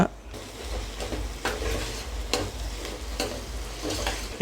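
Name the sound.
stirring onions frying with mint and coriander for mutton curry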